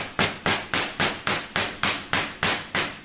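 Ten sharp, evenly spaced hammer taps seat a snug-fitting part during assembly of a LongMill CNC machine, each a crisp, close knock with a quick decay, in a steady rhythm and with no talk.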